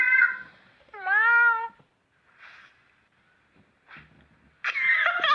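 A cat meows loudly several times up close, with rising and falling wavering calls separated by short pauses, the last one long and strained.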